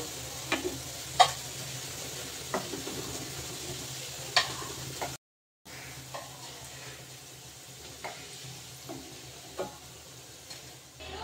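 Fritters made from leftover rice fry in hot oil, giving a soft, steady sizzle with occasional sharp ticks and pops, broken by a brief moment of silence midway before the bubbling resumes.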